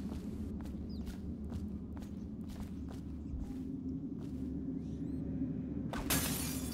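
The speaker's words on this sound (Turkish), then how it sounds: "Cam filan kırıldı hani." Glass shatters in the stealth video game Dishonored, a sudden bright crash near the end that follows a run of soft game footsteps over a low ambient hum, with no talk.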